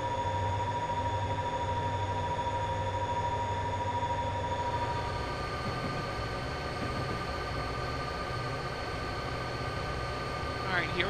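A train rolls steadily along the track in Train Simulator 2015 on the Soldier Summit pass, a constant rumble and clatter of wheels, with a voice talking over it throughout.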